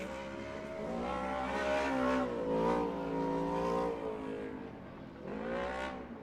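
Side-by-side off-road vehicles racing at Durhamtown, engines droning and revving with rising and falling pitch as they pass at moderate distance, steady and loud throughout.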